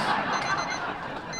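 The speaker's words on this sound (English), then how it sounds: "smack that buzzer." A steady buzzer drones at a sports hall of fame banquet, one continuous tone lasting over a second without a break.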